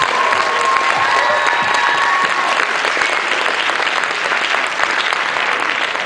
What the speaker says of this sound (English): round of applause again for just the whole band